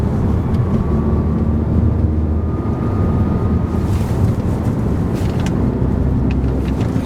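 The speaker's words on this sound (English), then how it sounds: "customer complaining of a whining noise in 5th gear" A car's gearbox in fifth gear gives off a constant whine, a thin steady tone riding over the broad road and engine drone under light throttle, with no one talking.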